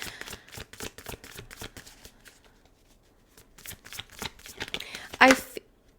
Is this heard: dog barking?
no